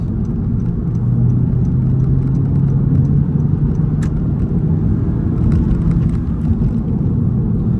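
Heard from inside the cabin, a 2023 Honda Civic Si engine drones loudly and steadily under constant road rumble while driving, with no talking.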